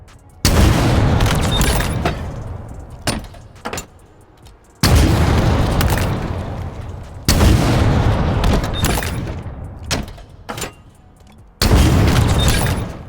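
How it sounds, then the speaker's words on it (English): Rocket launcher blasts boom in Halo Infinite multiplayer gameplay: several heavy explosions roll out one after another, each a loud deep burst followed by a rumbling tail, with sharper gunfire cracks scattered between them. "we have the famous rocket launcher for some massive destruction"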